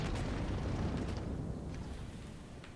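A turret is destroyed in the Paladins video game on Nintendo Switch: a loud, dense explosive boom rumbling across the whole clip and slowly fading, with no talk over it.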